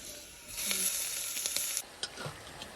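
Meat drops into hot oil with browned garlic and onion, setting off a sudden, louder sizzle that settles into steady frying with a few scraping stirs, close up.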